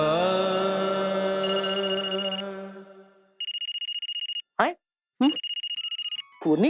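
A telephone rings in repeated electronic bursts, loud and close, following a stretch of music; brief voice-like chirps occur between the rings.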